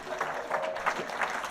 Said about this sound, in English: Round of applause for the general.